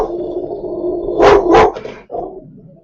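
A dog barks twice in quick succession at close range, loud sharp yelps over a low indoor hum, followed by a brief fainter sound.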